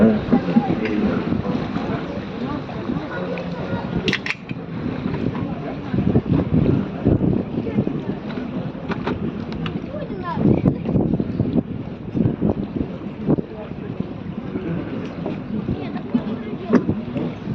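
A boat motors steadily across the water under the St. Bonifatius Bridge, a constant rumble with wind buffeting the microphone throughout.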